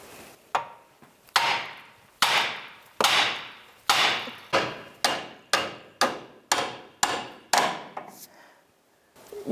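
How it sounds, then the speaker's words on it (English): A hammer strikes a steering knuckle on a 2003-2009 Subaru Outback to pop the tie rod loose, about a dozen loud, sharp metallic blows in a fairly steady rhythm, each ringing briefly before the next, with no talking. "I'm just going to hit that knuckle and it should pop it right out."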